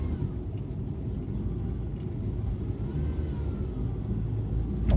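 Car interior road noise while driving, with a steady low rumble and engine hum that runs continuously at moderate level.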